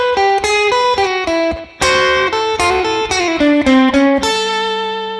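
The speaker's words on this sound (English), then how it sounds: "A bluesy lick to take you from the 5 chord to the 4 chord and then back to the 1 chord." A bluesy electric guitar lick moves from the five chord to the four and back to the one, a run of quick plucked notes and bends ringing loud and close with no talking.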